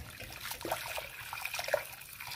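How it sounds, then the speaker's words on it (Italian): Water is poured into a cooking pot during a home Ramadan iftar preparation, a continuous splashing trickle with small bubbling irregularities, close and moderately loud, with no talk over it. "ok mettiamo l'acqua grazie"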